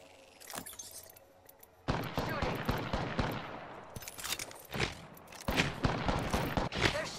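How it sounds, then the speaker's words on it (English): Bursts of rapid automatic gunfire from a rival squad in the battle royale shooter Apex Legends, with several rattling volleys and sharp shots in quick succession, loud and fairly close, and a voice speaking between them. "That's another squad shooting at us."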